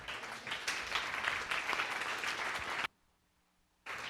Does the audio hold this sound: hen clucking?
no